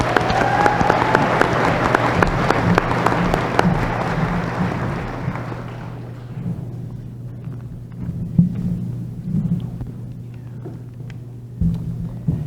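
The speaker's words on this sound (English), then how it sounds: "Another round of applause for our speakers" Applause from the audience at a spring college commencement ceremony for the speakers, dense and loud at first, then thinning after a few seconds to sparse scattered claps over a low steady hum.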